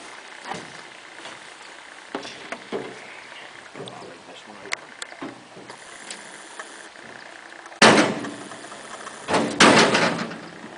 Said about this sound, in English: Let me close this other door first.